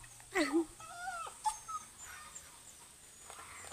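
A dog shut outside a gate whimpers and whines in a few short, high-pitched bursts near the start, then fades into quiet background noise.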